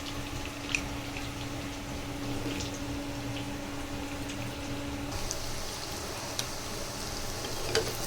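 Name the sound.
chicken frying in pan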